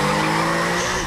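Car tires squeal in a skid during a tense film scene, a loud, continuous screech with engine noise that fills the whole moment, no talking over it.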